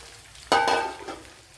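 Sardines frying in a pan with pepper: a sudden loud sizzle bursts in after a quiet moment, then fades slowly to a soft steady crackle.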